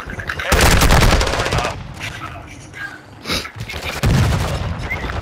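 Rapid bursts of automatic gunfire in a military shooter video game, loud and close, with sustained volleys, brief pauses and a renewed burst near the end, mixed with game voices.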